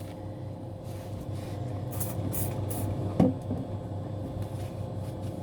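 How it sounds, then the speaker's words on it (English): All-purpose cleaner is spritzed onto a Bosch Classixx 7 tumble dryer during maintenance: three quick, close hissing spray bursts in a row over a steady low room hum, followed by a single brief knock, with no talking. "all-purpose cleaner."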